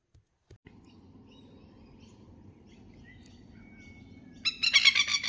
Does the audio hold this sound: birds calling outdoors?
yes